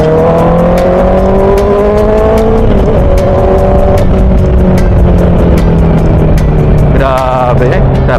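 Honda CB650R motorcycle accelerating on a city road, its engine loud and close, pitch climbing steadily through the gears with brief dips at shifts, alone without talk.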